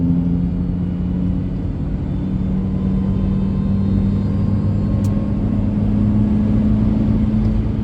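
A car drives along a road, heard from inside as a loud, steady low rumble of engine and tyre noise that holds evenly throughout with no talking.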